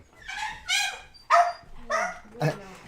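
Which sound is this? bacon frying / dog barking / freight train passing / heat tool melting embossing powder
dog barking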